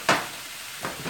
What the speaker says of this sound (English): Let me stir my rice.